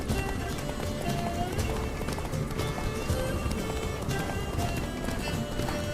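Roach, a horse in The Witcher 3, gallops at a steady run with rapid, continuous hoofbeats close by. Someone talks over the drumming of the hooves.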